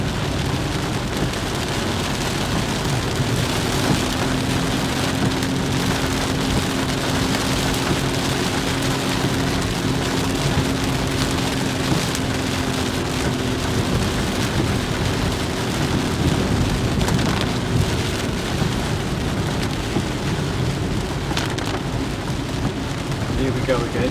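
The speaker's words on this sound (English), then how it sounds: "Oh, a hell of a crack of thunder there." Steady heavy rain pours down with a constant hiss, while low rumbles of thunder roll in the background throughout.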